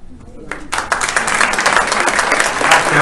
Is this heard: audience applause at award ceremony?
yes